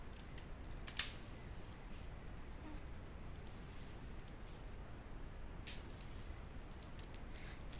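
Soft clicks and taps on a computer keyboard and mouse during editing work, one sharper click near the start followed by scattered faint keystrokes over a quiet room hiss.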